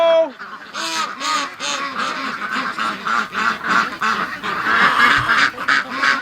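A flock of ducks quacking and honking continuously and close by, overlapping calls in a busy, noisy chorus.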